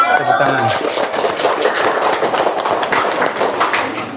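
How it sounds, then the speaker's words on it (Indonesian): Classroom audience clapping after a group presentation in a teacher training session, a dense steady patter of hands that carries loud through the whole stretch, with a short burst of voices at the very start. "Tepuk tangan."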